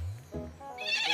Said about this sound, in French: Un âne?